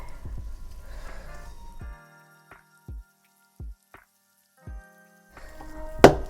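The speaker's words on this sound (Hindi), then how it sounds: "अब हम इसको आहिस्ता सा पानी डाल के गूंदेंगे।" Hands knead maida flour dough for chicken cheese naan as lukewarm water is poured in little by little, giving close, intermittent wet squishes and soft drips separated by quiet pauses, with no talking.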